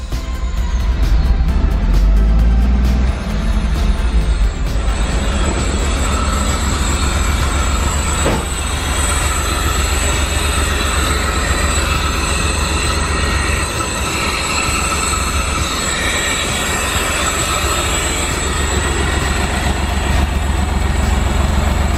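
A barn-find Ferrari replica running on old fuel idles steadily right after its first start, a loud, close, continuous engine drone with a rough, rumbling texture and no talking.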